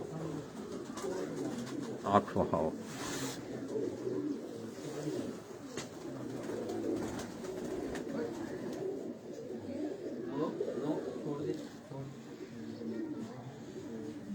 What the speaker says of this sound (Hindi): ये उस्ताद अजहर ऑफ यूनान उनके घर का ये गोल्डन कबूतर है